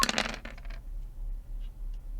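Four dice clatter onto a hard surface in a quick, close burst of rattling clicks that settles within a second, followed by quiet room tone.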